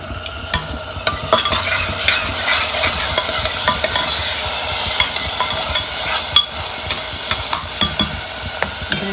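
Tomato and crushed garlic frying in a pan with salt while being stirred: a steady, loud sizzle throughout with intermittent scraping and clinking of the spoon against the pan, no talking.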